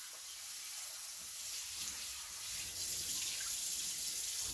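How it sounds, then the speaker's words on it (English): Steady stream of tap water running under a kitchen faucet while a paper pour-over coffee filter is wetted, a continuous close hiss with no talking. "I'm basically going to put this under the faucet and wet it."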